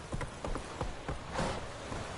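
Horse hooves clip-clop at a steady walking pace in The Witcher 3 on PS4, a quiet, regular series of thuds over faint background ambience.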